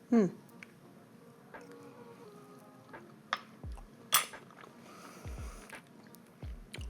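A metal spoon clinks against a pot of slow-cooked Filipino beef Kare Kare stew: a few light, scattered taps, faint and close, amid soft handling noise.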